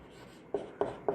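Chalk or marker strokes on a board during a maths lecture on conic sections, three short scratchy bursts spaced roughly a quarter second apart, fairly close and alone without talk.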